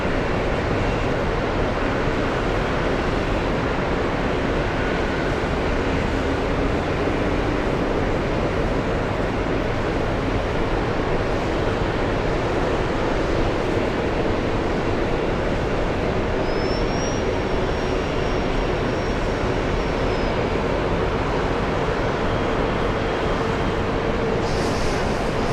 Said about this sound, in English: Sound coming from the plane below.